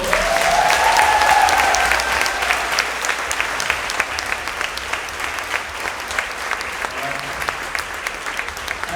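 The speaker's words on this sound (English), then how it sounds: "So give them a round of applause." An audience at a vegan camp-out gives a strong round of applause, loud and dense at first, then thinning slightly as it continues, with a brief whistle-like tone and faint voices near the start.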